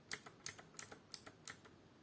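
Gateron blue mechanical keyboard switches clicking in a steady rhythm, about six crisp, sharp keystrokes with even spacing, close and isolated against a quiet background.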